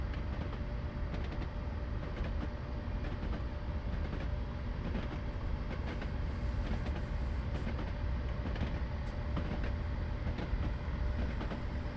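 A train on the Fife Circle Line rolls on steadily in Train Simulator 2020, a constant low rumble with faint track clatter and no break across the stretch.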